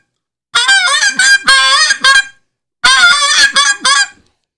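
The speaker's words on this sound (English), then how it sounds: "But to blow a goose call like this is, you need to leave it out." Hunter's handheld goose call blown in two loud bursts of rapid honks and clucks, close and sharp, separated by a short silence, with no talking.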